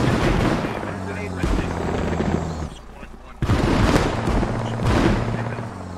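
Anti-aircraft gun fire in the military game Squad, during an operation with a droning engine overhead: repeated heavy bangs and bursts over a steady low hum. Voices talk throughout.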